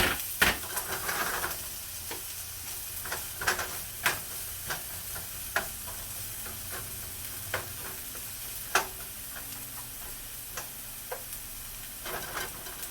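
Sweet onion fries in oil in a hot pan, a steady soft sizzle broken by scattered clicks and scrapes of stirring, close and fairly quiet with no voices.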